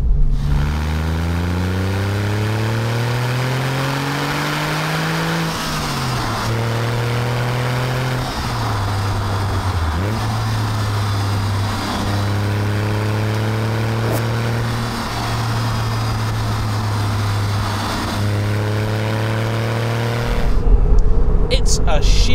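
A Porsche 911 (996) Carrera 4S convertible engine drones steadily, its pitch climbing and dropping through gear changes, with a person talking over the interior hum.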